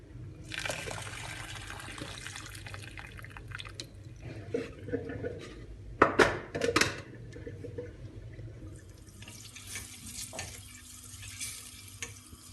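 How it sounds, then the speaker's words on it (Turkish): Boiled chicken broth is poured through a strainer into another container, making a faint, steady trickle and splash of liquid with a few louder metallic clinks midway, close by and without talk. "suyunu bir süzgeç yardımıyla başka bir kaba alıyorum"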